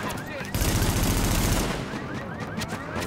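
An M4 rifle in The Division video game fires in a rapid automatic burst, loud and dense for about a second, with sharper scattered shots after it and faint voices underneath.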